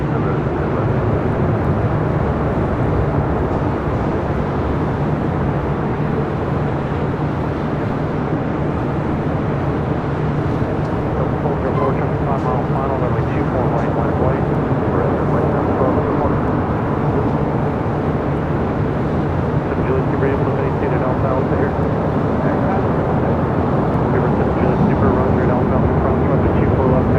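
An Airbus airliner touches down at LAX with a steady, loud broadband roar of engines and rushing air across the whole stretch, while voices from a live plane-spotting stream carry on over it.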